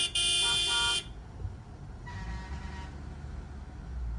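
Truck horns honk on a mountain road: a loud, near blast lasts about a second, then a fainter, longer honk follows over a low engine rumble.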